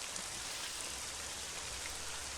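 Heavy rain in a video game, a dense, steady downpour hissing and pounding against a window, continuous and fairly close with no voices.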